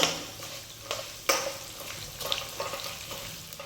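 Cumin seeds and chutney ingredients stirred in a hot pan for ginger chutney, giving a soft continuous sizzle broken by a few scraping clinks of the spoon.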